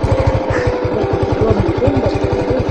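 Motorcycle engine running steadily at a close distance, with a rapid even pulsing throb and no talking, heard on a rural ride in Masbate.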